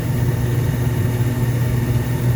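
A Trane gas furnace blower runs with a steady, loud low hum and an even whooshing airflow that holds constant, with no voices.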